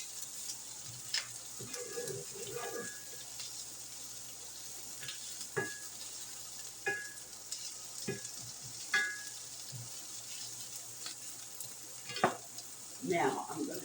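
Onions frying in a pan for an apple pie, a steady soft sizzle running throughout with occasional clicks and light utensil taps, no talking.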